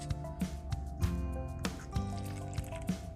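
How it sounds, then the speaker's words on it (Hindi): Water being poured little by little into flour while mixing roti dough in a home kitchen, with soft drips and wet squishing in short bursts over steady background hum. "अब इसमें मैं थोड़ा थोड़ा पानी करके डालूंगी"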